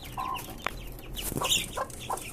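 Desi hen clucking among tiger chicken chicks about 20 days old on a rooftop poultry farm; several low clucks repeat over thin, high chick peeps, close and moderately loud.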